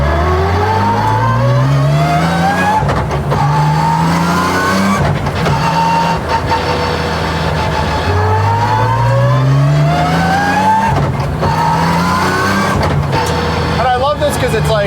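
A BMW E46 M3 engine revs loudly while driving, pitch climbing and falling through repeated gear pulls with a lively, high-revving note, close and continuous, with people talking over it.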